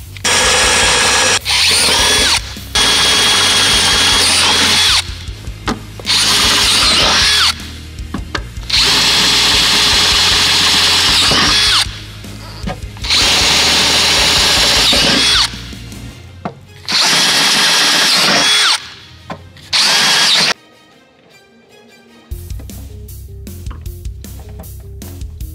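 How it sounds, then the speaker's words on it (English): A power drill bores holes for rivet nuts in the body of a Jeep Wrangler JK, running in loud repeated bursts of a few seconds each with short pauses between, ending with quieter clicking and handling. "I'll go ahead and get those drilled out just like I did the front, install the riv nuts,"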